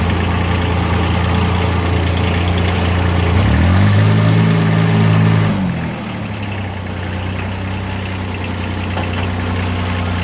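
A small Kubota ZB1402 diesel tractor engine runs steadily, then revs up briefly as it pulls away in second gear before settling to a lower, even drone.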